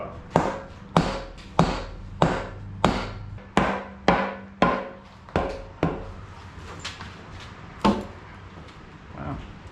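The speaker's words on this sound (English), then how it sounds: "now the joy comes of trying to get the intake off" Prying the intake manifold off a Ford 289 V8 engine being torn down after more than 50 years, about a dozen sharp close knocks and bangs at a roughly steady pace, thinning to a few scattered taps near the end.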